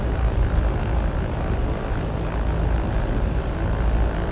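Steady, close propeller drone of a Trislander's engines at low power while holding on the ground in Microsoft Flight Simulator 2020, a continuous even hum with no talking.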